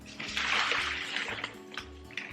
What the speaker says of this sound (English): I think I'm going to put even more water in actually.